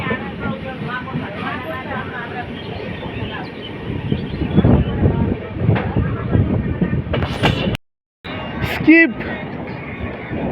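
The North East Express rolls along the rails with a steady rumbling clatter and wind noise, running continuously at close range, then briefly cutting out before resuming.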